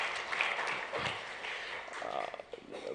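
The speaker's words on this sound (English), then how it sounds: "They really deserve a big round of applause." Brief round of audience applause for conference organizers, uneven clapping with a few louder bursts and some murmuring voices, tapering off unevenly toward the end.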